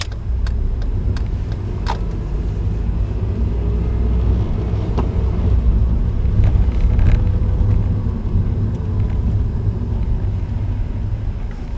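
A manual-transmission car rolls slowly as the clutch is eased out with no throttle, a steady low engine rumble heard from inside the cabin with a few faint clicks and rattles.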